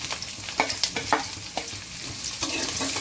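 Chopped garlic and onion with green chilies sautéing in a pan for curd okra, a steady sizzle broken by repeated scraping stirs, close and moderately loud, no speech.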